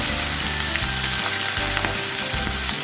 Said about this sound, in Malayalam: നേരത്തെ കട്ട് ചെയ്ത് മാറ്റി വെച്ച ഇഞ്ചി വെളുത്തുള്ളി പച്ചമുളക് വഴറ്റി കൊടുക്കാം